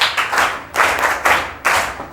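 A classroom of students claps for a classmate, several short rhythmic bursts of group clapping, close and loud, with brief gaps between them.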